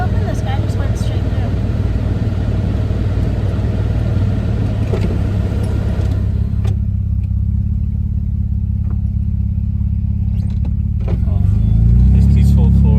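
Car engine passing through a snowy street during a Washington snow storm, a steady loud rumble and rolling noise that stays close throughout and swells near the end, with people talking over it.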